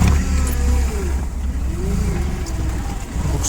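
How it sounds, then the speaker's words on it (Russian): Komatsu FG20 petrol forklift pulling away in first gear, its engine a steady low rumble with a faint pitch rise as it moves, close and continuous throughout. "Первое вперед. Вилочник едет. Без проблем."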